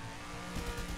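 Car engine surging under a speed boost in Just Cause 2 multiplayer, a steady loud motor roar with a swell of rumble midway, no voices.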